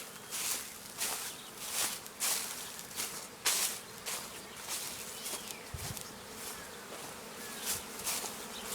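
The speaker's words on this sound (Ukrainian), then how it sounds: "Ось яка маса бджоли." A dense swarm of honey bees buzzing all around, a continuous drone with brief louder swells as individual bees fly close past.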